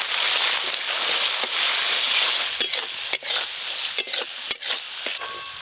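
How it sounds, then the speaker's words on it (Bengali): Ground cumin, coriander and chopped tomato masala frying in a pan for fish curry, a steady close sizzle with intermittent scraping stirs and clacks of a spoon against the pan. "মশলা ভালো করে কষে নিয়েছি"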